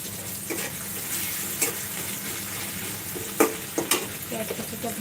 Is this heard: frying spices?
yes